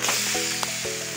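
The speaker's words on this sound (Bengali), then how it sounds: "এরপর ডিমটা ভেজে নিচ্ছি।" An egg sizzles and crackles steadily in a hot pan during Egg Maggi preparation, a close, continuous frying hiss with small pops throughout.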